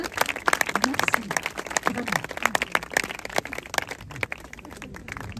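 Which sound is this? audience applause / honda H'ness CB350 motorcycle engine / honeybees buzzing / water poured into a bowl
audience applause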